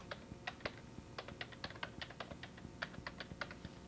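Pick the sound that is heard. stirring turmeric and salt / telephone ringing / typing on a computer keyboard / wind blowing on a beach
typing on a computer keyboard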